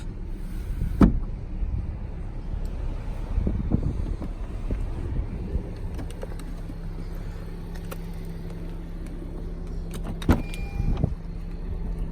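The sunroof of a 2019 Honda Fit EX hatchback opens with a steady low electric motor hum lasting several seconds inside the cabin, framed by a few soft clicks and thumps, with no talk.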